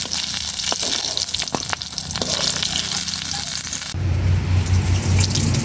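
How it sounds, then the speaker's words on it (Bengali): Oil sizzles steadily in a pan during frying, with a few sharp crackles and pops up close, then a louder, denser hiss with a low hum near the end. "এই যে ভাজা হয়ে গেলে আরও বেশি করে ফোটে।"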